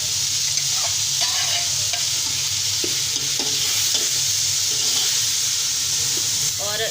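Three large tomatoes hit hot oil in a pot of beef yakhni pulao and fry, filling the air with a loud, continuous sizzle and hiss, with stirring scrapes breaking through now and then.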